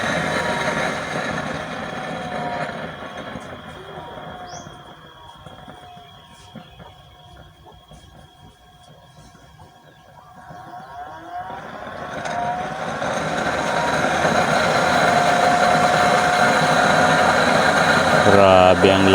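Homemade burner with a 3-inch chamber and 20-hole nozzle set 6 cm high, a steady roar that dips to a lower rumble midway and then swells louder and fuller toward the end.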